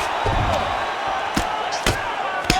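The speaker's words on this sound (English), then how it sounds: "Beautiful ground strikes landed." Ground strikes land in a simulated MMA fight in EA Sports UFC 5, a few sharp thuds spaced over a constant crowd roar, with a commentator talking.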